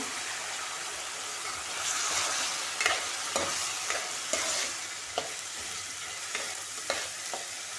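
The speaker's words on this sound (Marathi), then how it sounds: "1-2 मिनटं परतून घ्यायचे." Soaked chana dal sautés in a pan for a vegetable dish made with suran leaves, giving a steady close sizzle broken by sharp scraping stirs at irregular intervals, with no talking.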